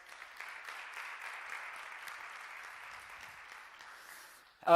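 An audience at a digital commerce conference in Kuwait claps for the event sponsors, moderate and fairly even, fading before a loud burst at the very end.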